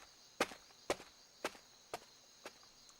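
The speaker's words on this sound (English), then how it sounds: "Junpei shuffled up the stairs" Footsteps climb stairs in 999: Nine Hours, Nine Persons, Nine Doors: five dull, evenly spaced thuds about half a second apart, fading slightly, set against a faint steady electronic hum.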